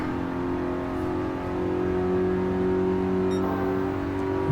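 A 2008 Fiat 500 with a 1.2 engine revs hard while driving on track, a loud, sustained drone climbing slightly in pitch with a faint whir, no talking.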